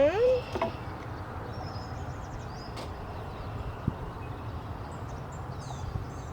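Honey bees hum softly and steadily around an open beehive during an inspection, a low, continuous buzz with occasional light knocks from frames being handled.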